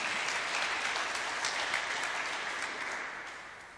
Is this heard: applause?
yes